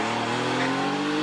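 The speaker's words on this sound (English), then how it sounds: "The Porsche 911, slightly earlier version than the ones we've been seeing so far this afternoon." Porsche 911 race car with a 3.6 litre engine at the Prescott hillclimb, engine droning loud and steady with tire noise as it passes close.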